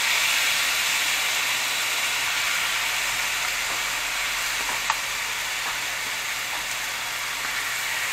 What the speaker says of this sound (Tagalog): ito yung sizzling plate natin. Lagyan mo natin ng sauce.